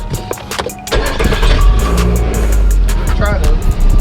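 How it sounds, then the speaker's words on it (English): A Nissan Altima being worked on cranks and catches into a loud, rough running engine nearby, with people talking over it. "you gotta start the car."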